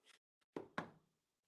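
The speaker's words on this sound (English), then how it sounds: "that's me knocking" Two sharp knocks on a wall during a night ghost hunt, loud and close in a quiet room, preceded by a fainter rustle.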